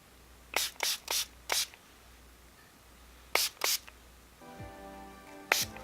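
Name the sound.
spray bottle spraying water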